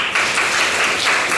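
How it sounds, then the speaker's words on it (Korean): Applause from students in a lecture hall, a steady dense wash of clapping running throughout the short stretch with no voice over it. "박수."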